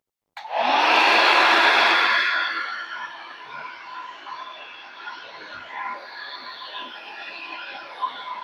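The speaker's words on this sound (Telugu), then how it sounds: "సో ఈ హెయిర్ డ్రైయర్ తో డ్రై అయితే చేశాను హెయిర్ ని." A Vega 3-in-1 hair styler with dryer blows hair with a loud, steady rushing whoosh that starts abruptly, then drops to a quieter continuous airflow hum for the rest of the clip.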